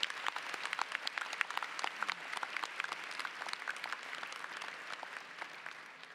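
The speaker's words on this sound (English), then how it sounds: "We'll give her a round of applause anyway." Applause from an audience at a college convocation ceremony, a steady patter of many hands clapping at moderate distance that thins slightly toward the end.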